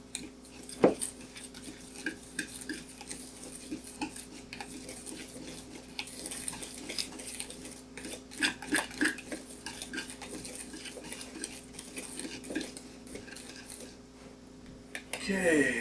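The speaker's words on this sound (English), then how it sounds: "Let's mix that up real good now." A utensil stirs flour, baking powder, salt and sugar together in a bowl for corn dog batter, with repeated clinking and scraping against the bowl at close range and no talk.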